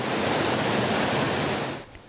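Stream water rushes through a mini-canyon in Martinique as a loud, dense, steady roar that cuts off near the end.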